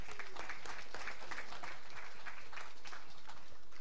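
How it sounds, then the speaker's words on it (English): Spectators at a women's 10m air rifle standing SH1 final in Chateauroux applaud a shooter after her final; a soft, continuous patter of many hands clapping sounds somewhat distant and low in level. "give her a second big applause for a great final"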